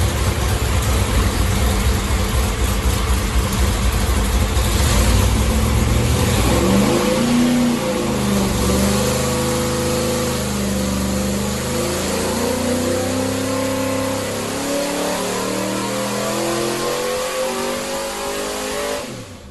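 A Ford 289 small-block V8 built for a Shelby Cobra roars loudly on a dyno, holding high revs and then sweeping down and back through the range in a steady, continuous howl.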